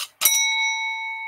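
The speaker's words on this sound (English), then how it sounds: "Customer come in, ring the bell, job done." A vintage brass shop counter bell is struck once up close, a bright metallic ding that rings out with a long, steady sustain.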